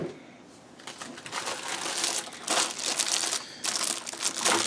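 A plastic bag is pulled off a Corsair K70 RGB TKL mechanical keyboard during unboxing. It crinkles and rustles in several close bursts of varying loudness, with no talk over them.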